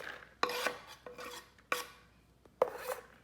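Half an onion being dropped onto sliced cucumber in a kitchen for fridge pickles, heard as four sharp, close clatters spaced about a second apart, each followed by a brief rustle, with no talking.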